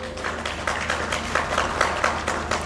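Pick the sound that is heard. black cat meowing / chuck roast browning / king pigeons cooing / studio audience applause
studio audience applause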